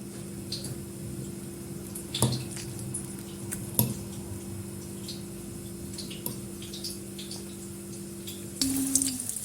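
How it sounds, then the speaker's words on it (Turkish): Floured zucchini slices are dipped and turned in a wet egg batter, making a series of soft, scattered squelches and small wet taps over a steady low kitchen hum, with a slightly louder clatter right at the end. "Sonrasında yumurtalı harcıma batırıyorum."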